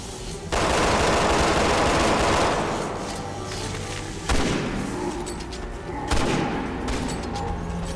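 Heavy gunfire in Resident Evil 6, during Ada's second chapter: a loud, dense automatic burst opens, followed by further sharp blasts and echoing booms layered over rumbling game effects.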